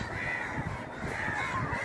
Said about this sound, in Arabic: كل دي غربان